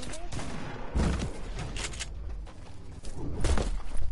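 Shotgun blasts in a video game, several heavy booming shots spaced irregularly, loud and close, mixed with excited voices talking.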